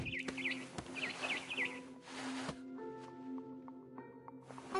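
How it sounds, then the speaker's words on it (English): Barn swallow chirping outside a window at night in the game What Remains of Edith Finch: repeated short twittering bursts early on, then thinner tonal calls over a steady low hum and ambient game sound. "Then I heard chirping outside my window."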